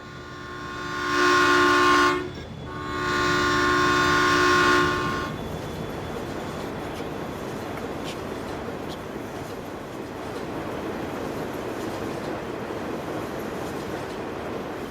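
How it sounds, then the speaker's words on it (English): Train passing in the video game Emerald Coast: a loud, close horn sounds in two long blasts over roughly the first five seconds, then a steady rumble of rolling wheels continues underneath. "Oh, here comes the train."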